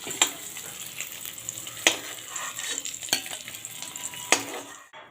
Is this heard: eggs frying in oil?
yes